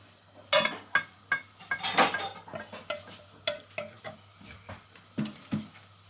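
Onions for a six-person lasagne are sautéed in a pan, with a faint sizzle beneath a series of sharp scraping and clinking strokes from stirring, roughly one or two per second, close and fairly quiet.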